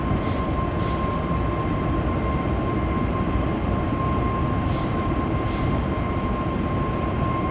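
A Boeing 737 MAX 8 in the X-Plane 11 flight simulator rolls into its takeoff with a loud, constant engine roar and a steady high tone, while faint voices or radio chatter come through.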